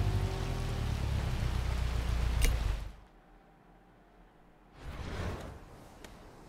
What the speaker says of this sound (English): right, because it's raining